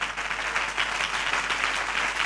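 A church congregation in Chennai claps hard during a sermon, a thick, even roar of many hands that carries on steadily for a couple of seconds, close and full with no speech over it.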